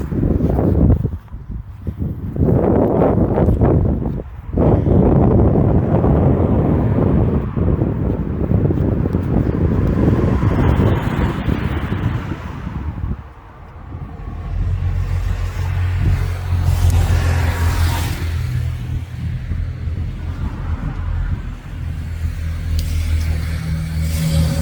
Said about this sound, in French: voir avec les voitures qui passent